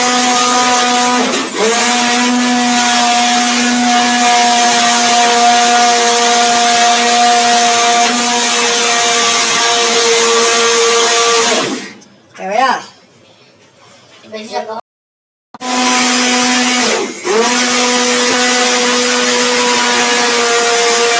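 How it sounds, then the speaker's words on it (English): Home countertop blender whirring through British Indian restaurant base gravy, a loud steady motor drone that cuts out, briefly pulses, stops, then starts again at full power. "You can use a hand blender, or you can use one of these, the non-commercial blender at home you have."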